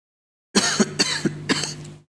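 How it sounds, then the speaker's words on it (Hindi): Someone speaking continuously for a long stretch coughs several times in quick succession, four or five close, dry, throaty bursts with short gaps between them, loud and close, with no talk over them. "लगातार बोलते बोलते खांसी भी आ रही है।"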